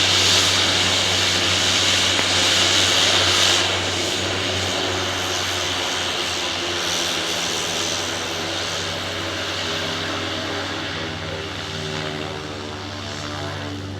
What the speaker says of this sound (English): This beautiful Cessna Grand Caravan is somewhat of a new addition to Harbour Air